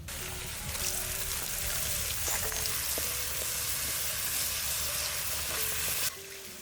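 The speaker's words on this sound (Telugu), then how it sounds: "ముందుగా నూరు పెట్టుకున్న పచ్చిమిరపకాయలు, నూరిన మసాలా ఇవన్నీ నూనెలో వేసుకోవాలండి." Ground green chillies and masala hit hot oil in a prawn curry pan, giving a loud, steady frying sizzle with faint stirring scrapes throughout, then dropping off sharply near the end.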